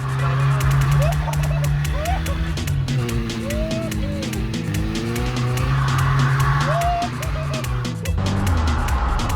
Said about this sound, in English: After a few attempts, I finally completed track with some kind of drifting.